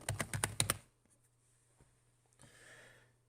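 Quick keystrokes on a computer keyboard, about seven crisp taps in a fast burst, followed by quiet, a couple of faint clicks and a soft rustle.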